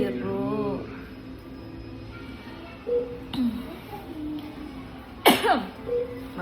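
Coughing from a person indoors at a KidZania play venue, a few short harsh bursts spread across the clip, with a sharper loud burst near the end, over a soft background hum.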